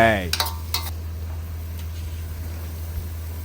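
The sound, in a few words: stir-frying bamboo shoots in a pan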